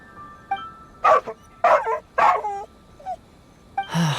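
Inu Shosho, a dog in Genshin Impact, gives a series of short barks and whimpering yips, four clustered bursts followed by a soft whine and a final bark, close and clear over a quiet backdrop.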